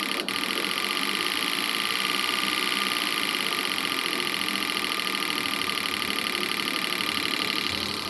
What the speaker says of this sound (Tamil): 3 காயில் 3 இன்ஜெக்டர் பக்காவாக ஃபயரிங் ஆகுது.